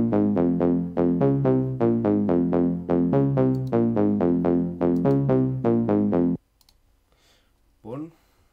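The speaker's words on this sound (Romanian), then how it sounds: "Prima parte a melodiei am făcut-o cu un loop care sună cam așa." A house music loop built in FL Studio 20 repeats bright, pitched synth stabs in a steady four-on-the-floor rhythm for about six seconds, then cuts to near silence before a brief voice at the end.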